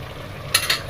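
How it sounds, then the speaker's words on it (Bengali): Chicken frying in a pan, a low sizzle broken by two quick scraping strokes of a spoon stirring near the end. "ভালো মতো কষানোর জন্য ভালো মতো নেড়ে চেড়ে কিছুক্ষণ রাখবো"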